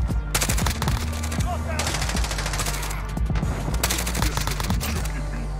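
Rapid automatic gunfire in Call of Duty: Modern Warfare Ground War, loud dense bursts of shots repeating over a constant low game rumble.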